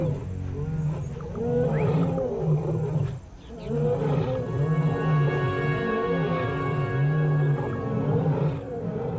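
A pride of lionesses in Tanzania roars together, deep rhythmic grunting roars overlapping in a sustained loud chorus with a short pause partway through, close and without talk.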